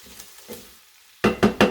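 Bacon in a skillet with green beans is stirred: a few soft scrapes, a short pause, then three loud close sizzling bursts as the pieces are turned.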